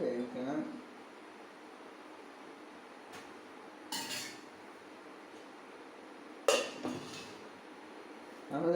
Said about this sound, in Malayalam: എന്നിട്ട് നമ്മളിങ്ങനെ മൂടി വെച്ച് വേവിക്കണം